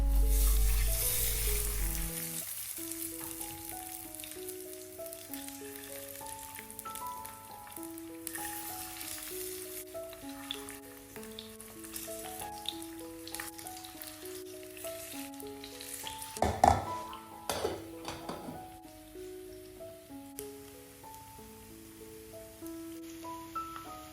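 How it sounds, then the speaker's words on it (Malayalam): Kallummakkaya mussels frying with masala, cornflour and curry leaves, a continuous soft sizzle with occasional stirring clicks, heard under a prominent melodic music track. "ബാക്കി പിന്നെ നമ്മളിടുന്ന എല്ലാ പൊടികളും ഇട്ടിട്ട് ഫ്രൈ ആക്കിയെടുക്കും"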